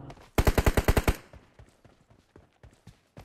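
A rapid burst of about eight automatic gunshots sounds in the mobile game PUBG Mobile. Fainter scattered shots follow in the distance.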